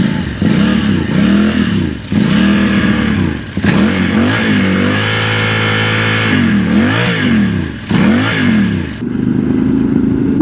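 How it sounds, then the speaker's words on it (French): A QJ Motor SRT 600 SX midsize adventure motorcycle's exhaust revs repeatedly up and down with a raspy, throaty note, loud and close, in several bursts with a short steady hold between them. "Pour ce qui est de la ligne d'échappement, eh bien, je trouve que le bruit est plutôt sympa. Un bruit rauque,"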